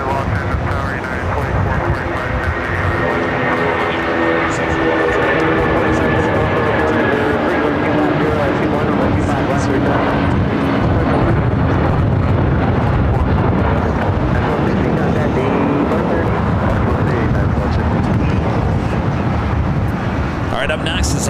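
An airliner taking off from runway 25 right at Los Angeles International Airport, a sustained loud jet engine roar rising and holding for the whole span, with radio talk from the control tower heard over it.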